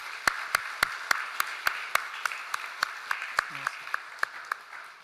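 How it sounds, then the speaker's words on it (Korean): Applause from a church congregation during a Sunday worship service in Samcheok, honoring two retiring elders: a steady run of sharp, evenly spaced claps, fairly close and moderately loud, with a brief low murmur partway through. "우리 다시 한번 마음을 담아 격려의 박수 하도록 하겠습니다."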